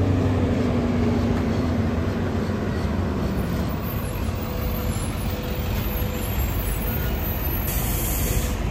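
A Miami Metrorail train on an elevated track in Brickell, heard as a loud, steady mechanical rumble and rolling roar mixed with city traffic, sustained throughout with no voices.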